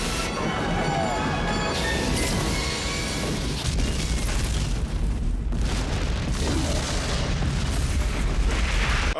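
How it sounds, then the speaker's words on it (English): A massive explosion in the 1998 film The Mask of Zorro roars as a loud, sustained rumbling blast with crackling debris and continued booming that fills the whole stretch. "Yeah, that's a massive explosion."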